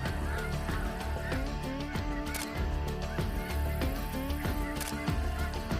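A large flock of snow geese honks continuously, dense overlapping calls, some loud and near and many more distant, forming a constant clamor with no one speaking.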